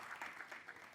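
Studio audience applause welcoming a singer onto a comedy talk show, a soft continuous patter of many hands clapping at a steady level, with no voices over it.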